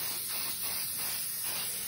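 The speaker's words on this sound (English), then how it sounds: "you want to spray your hairspray over the entire frame and give it a really good thick coat" Hairspray hisses from an aerosol can in a thick coat over a thrifted picture frame for a crackle finish, a close, continuous spray with slight pulsing as the can sweeps across.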